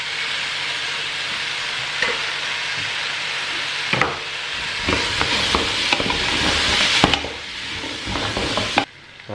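Garlic sizzles in a pan for a minestrone soup, a steady hiss of frying broken by several knocks and scrapes of a wooden spoon stirring it, close by and with no talking.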